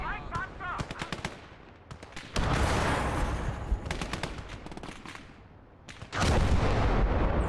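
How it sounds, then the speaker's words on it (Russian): A tank cannon fires an armor-piercing round in the World War II game Call to Arms: Gates of Hell: Scorched Earth. Two heavy booming blasts stand out amid rattling bursts of machine-gun fire. "Давай, бронебойный, заряжай."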